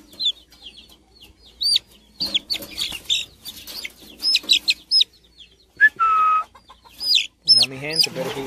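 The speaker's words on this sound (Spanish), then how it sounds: "Y es una gallina bien buena." Hen clucking and chicks peeping close by, with sharp intermittent clucks and high chirps in irregular bursts, plus a louder call near the end amid light background noise.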